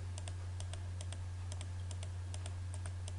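Keystrokes clicked out on a computer keyboard while entering AutoCAD commands, a dozen or so sharp taps in an uneven typing rhythm over a steady low electrical hum.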